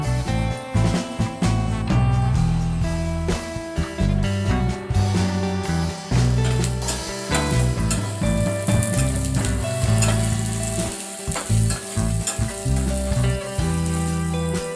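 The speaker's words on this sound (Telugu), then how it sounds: "కట్ చేసి పెట్టుకున్న onions, garlic and curry leaves ఇవి కూడా వేయించుకుందాం." Onions, garlic and curry leaves fry in hot oil in a pan for dal, a loud continuous sizzle broken by repeated stirring scrapes and clinks of a utensil against the pan, with no talking.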